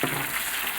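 Sichuan pepper, scallion, ginger and garlic frying in hot oil in a wok, a close, continuous crackling sizzle that stays even and unbroken.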